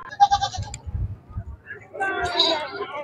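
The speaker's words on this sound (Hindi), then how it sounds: "जवान जवान बकरी है" Goats bleat at a livestock market in Haripur, with a short high cry near the start and a louder drawn-out bleat later, under crowd chatter and nearby voices.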